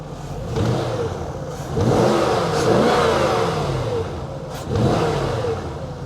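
Jaguar XK8 with many faults running with the bonnet open, its engine revved in several swells that rise and fall over a steady idle, close and loud, with no talk.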